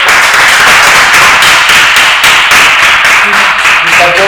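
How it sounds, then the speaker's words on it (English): A workshop audience at a storytelling masterclass breaks into loud, dense applause that carries on at full strength for several seconds, close and continuous, with a few voices faintly mixed in near the end. "All right, round of applause."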